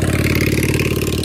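A motorcycle engine drones loud and close near a hillside flower garden at Koyasan, Japan, holding a steady, throbbing pitch throughout the brief moment.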